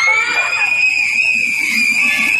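Screams from people riding an extra-long slide in Wenshan Forest Park, close to a residential area, form a sustained shrill tone that stays loud and continuous, with crowd noise and faint voices underneath.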